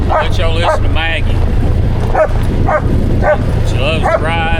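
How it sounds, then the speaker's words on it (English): A dog barks in short repeated bursts while riding along on an old Ford Jubilee tractor, the barks standing out over a steady low engine drone and road rumble. "She loves to ride and bark."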